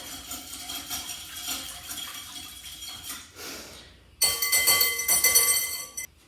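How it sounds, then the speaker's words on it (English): Butter, salt and brown sugar being mixed together, with steady clinking and scraping of a utensil against a bowl, followed by a louder, faster stretch of metallic mixing near the end. "so butter, salt, and brown sugar. Mix it together a little bit."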